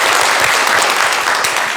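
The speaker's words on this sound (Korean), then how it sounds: "다시 한번 큰 박수 부탁드리겠습니다" An audience claps loudly and densely after a lecture, a continuous burst of applause filling the room with no pauses.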